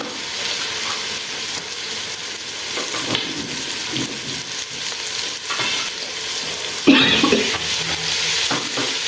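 Green peas go into a hot pan for a Pakistani potato and pea curry, frying with a steady crackling sizzle, a stirring clatter, and a louder burst near the end.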